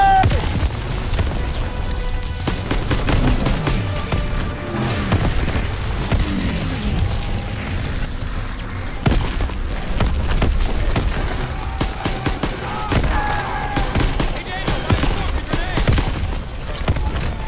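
Heavy booms from a grenade blast and sustained gunfire in a Call of Duty WW2 campaign mission, loud and continuous with rumbling low-end impacts and layered battle noise throughout.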